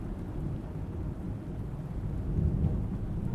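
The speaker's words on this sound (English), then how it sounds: "We just talked about rain sounds" Rain and thunder, a continuous low rumbling roar with dense rain hiss, steady and fairly loud with a slight swell toward the end.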